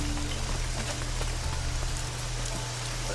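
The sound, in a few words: rain in the video game Risen 2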